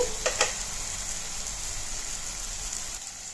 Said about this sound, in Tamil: இது அப்படியே வதங்கிக்கிட்டே இருக்கட்டும்